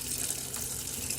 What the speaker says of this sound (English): So turn the water pump switch on.